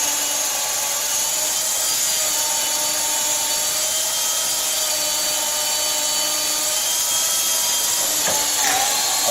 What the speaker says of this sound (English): This pressure treated will bog down your drill bit, so pull it up and let those chips come out.